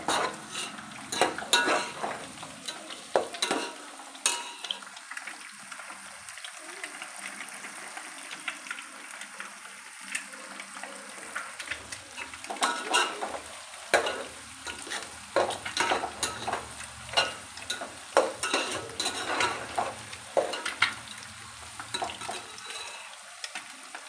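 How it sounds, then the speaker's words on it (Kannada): Egg fried rice is stirred in a pan, with repeated close scraping and clattering strokes of a spatula over a soft, continuous frying sizzle that swells and fades across the stretch. "ಈ ಕಡೆ ನೋಡಿ ಇದು ಫ್ರೈ ಆಗ್ತಾಯಿದೆ"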